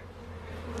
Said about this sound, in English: we got bees coming in the top and the bottom